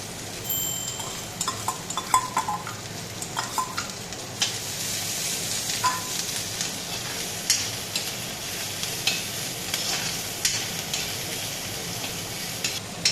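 Onion and garlic frying in a pan, a continuous close sizzle with intermittent scraping and stirring clicks throughout.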